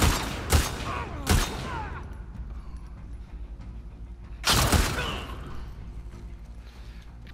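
Heavy gunfire in The Last of Us Part II, a few loud sharp shots spaced apart with a lingering rumble and clatter between them, close and dominant, with no voices.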